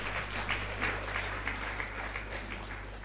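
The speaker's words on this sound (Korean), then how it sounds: "박수!" Audience applause fills a lecture hall at a Korean missionaries' conference in Thailand, a steady wash of clapping lasting about three seconds at moderate, fairly even loudness.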